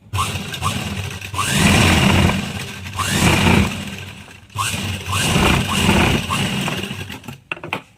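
A sewing machine runs a double line of stitches on a circular umbrella plazo, its motor whirring loudly in several bursts of a second or two with short pauses between them.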